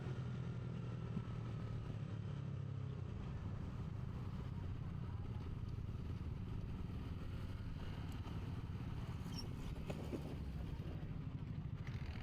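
A motorcycle engine drones and rumbles nearby, a steady buzzing roar that swells slightly as it goes by, with faint clatter around it.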